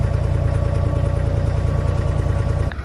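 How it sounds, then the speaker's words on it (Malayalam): Steady, close engine drone from an abra boat crossing the water, with another boat passing nearby; a continuous, loud motor hum that shifts slightly at the very end, with no talking. "വേറൊരു ബോട്ട് ഇവിടെ കൂടെ പാസ് ചെയ്യുന്നുണ്ട്"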